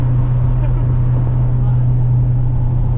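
A supercharged Pontiac GTO cruises with its windows down, its steady low engine drone mixed with rushing wind noise inside the cabin, loud and continuous throughout.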